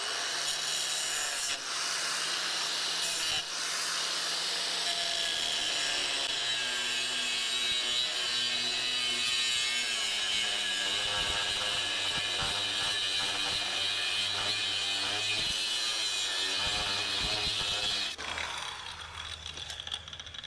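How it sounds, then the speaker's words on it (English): Steady, continuous saw cutting through a metal trailer coupler body just above the weld, a harsh rasping drone that runs for about eighteen seconds before stopping abruptly, close and loud. "We're going to make a cut horizontal just right above the weld through the coupler body"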